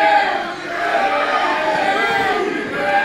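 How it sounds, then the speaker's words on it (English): Youngsters in a pro wrestling crowd boo Superstar Whiplash, a steady, dense wall of crowd voices that swells and dips slightly and stays loud for the whole three seconds. "a couple of youngsters in the crowd booing Superstar Whiplash"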